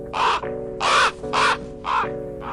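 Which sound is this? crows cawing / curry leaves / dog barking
crows cawing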